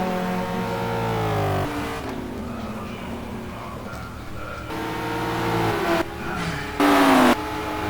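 Race cars lapping Hockenheim in the racing game GT2, several engines droning and shifting pitch as a close pack runs together, with loud revving surges and gear changes throughout.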